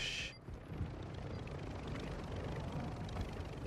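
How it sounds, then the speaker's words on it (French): A hostile drone flies overhead in a tactical shooter, giving a steady low rotor drone that rumbles continuously after a brief high burst at the start. "Drone hostile dans la zone."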